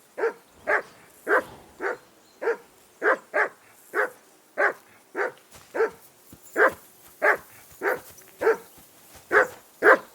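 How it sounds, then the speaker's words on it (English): A dog barks repeatedly in Kingdom Come: Deliverance II, about twenty sharp, evenly spaced barks, fairly close and clear against a quiet background. "Whistle at that mutt of yours to stop barking!"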